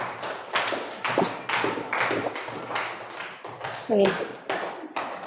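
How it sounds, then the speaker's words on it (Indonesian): A class of students clapping in bursts in a classroom, uneven and close, with a voice speaking briefly over the applause. "Berikan tepuk tangan untuk teman sekelasnya."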